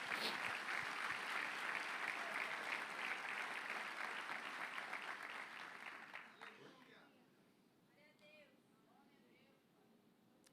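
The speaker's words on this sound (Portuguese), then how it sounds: "Aplauda o seu Jesus por isso." Church congregation applauding for several seconds, a broad wash of clapping that fades out, followed by quieter room sound with faint voices.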